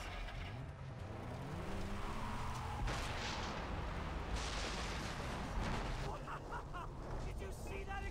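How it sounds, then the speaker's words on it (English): Booming in-game blasts and rumbling noise in Far Cry 3 fill the scene, with a sharp burst partway through, while engine-like drones run underneath. "Did you see that explosion?"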